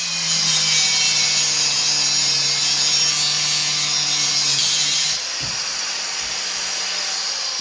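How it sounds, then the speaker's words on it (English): Hand saw cutting off a bicycle brake arm, a steady close rasping scrape of teeth on metal for about five seconds that drops into quieter scraping with a few knocks. "now I'm going to cut off this brake arm since we don't need it"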